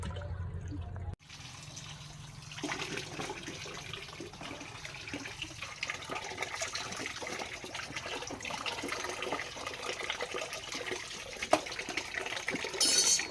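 Tap water running steadily as salted food is rinsed by hand, a constant faint splash and gush after a short pause at the start, with small clinks near the end.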